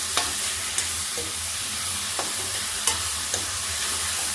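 Onions fry on high heat in a pan, a constant bright sizzle with a few sharp scrapes of stirring spoon against metal spaced through it, close and alone without talk.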